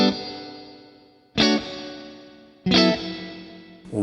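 A guitar played through a plate reverb effect with a long decay time: three strummed chords, each ringing out and fading in a long smooth tail before the next, with no voices.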